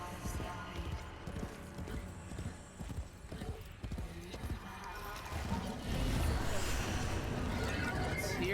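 Horse hoofbeats during riding in the Duviri area of the video game Warframe, steady clip-clop galloping that grows louder and busier toward the end, with someone talking over it.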